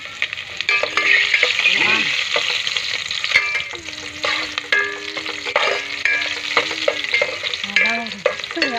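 Chopped garlic frying in a pan for pork putherong, a steady loud sizzle broken by repeated scraping strokes of a spoon stirring, with no one speaking.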